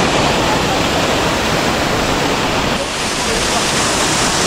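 Loud, steady roar of a waterfall on the Yonago-zawa mountain stream, broadband rushing water filling the whole clip with a brief dip near the end.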